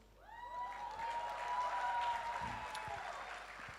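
Steady applause from a crowd at a Shahrukh Khan product launch event builds quickly and continues for several seconds, with a faint tonal whine underneath.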